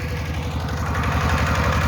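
A Kubota tractor engine runs in a cassava field, a loud, close, steady diesel chug with a rapid pulsing knock and strong low rumble, no pauses across the short stretch.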